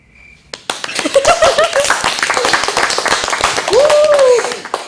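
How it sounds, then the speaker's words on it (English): A few podcast hosts clap close to the mic in a quick, uneven burst, with excited vocal whoops and chatter riding over the claps. "I'll hold for applause."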